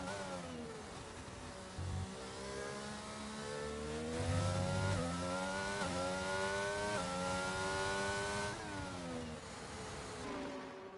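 Williams race car engine in a racing video game at Monza, a loud close high-pitched whine that rises through repeated upshifts, each gear climbing then dropping in pitch, with no talk over it.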